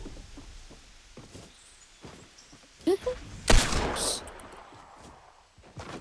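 In Fortnite Playground mode, a few sharp gunshots crack out mid-clip, one loud burst standing above quieter footsteps and faint game noise, with a voice heard briefly.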